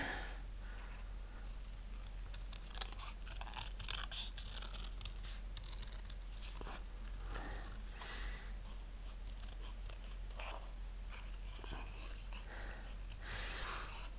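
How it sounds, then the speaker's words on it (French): Scissors cutting out a small paper palette for scrapbook embellishments, a quiet run of irregular snips and paper rustles close to the mic, with soft handling noises between cuts. "On va donc découper notre petite palette."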